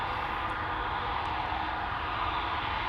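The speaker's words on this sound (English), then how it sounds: "that's E2 Embraer 195 that crept up behind the Embraer 175 now taking off" Embraer 175 jet taking off at Amsterdam Schiphol Airport, a steady broad engine roar heard from a distance without a clear rise or fall over a few seconds.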